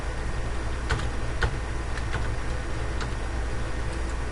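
Keys tapped on a computer keyboard while entering an app name, heard as a few scattered, light clicks over a steady background hiss, with no talking.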